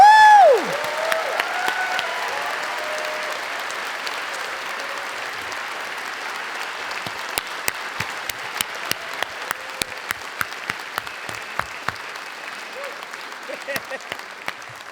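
Audience applause for graduates at an honors college medallion ceremony, a sustained wash of clapping with a whoop at the start and sharper individual claps standing out as it continues.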